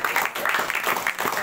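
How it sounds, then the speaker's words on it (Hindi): A classroom crowd at a tuition and computer centre claps steadily for a student's marks, dense even applause sustained throughout at moderate loudness. "नौ नंबर तालियां।"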